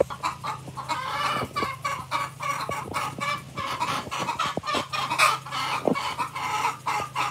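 Chickens cluck repeatedly and busily nearby at a backyard fruit nursery, a steady run of short clucks with occasional louder calls, no speech.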